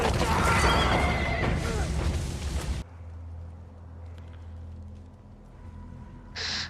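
Horses in a wild chase from The Revenant neigh loudly over drumming hooves for about three seconds, then the din cuts off to a low, distant rumble, with a short burst of noise near the end.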